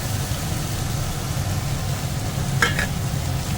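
Fried eggplant is tossed into fenugreek greens in a pan, a steady low sizzle with a brief scraping stir near the end, no voices.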